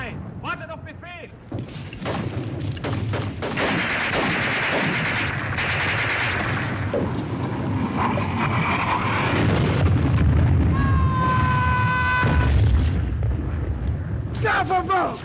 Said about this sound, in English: The men charged through gunfire and mortar fire to get to the Nazis.